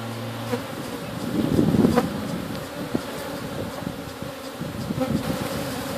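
Honeybees buzz steadily around an opened hive while it is being split and a screened bottom board is added in summer. The drone is dense and continuous, with a few louder passes close to the microphone.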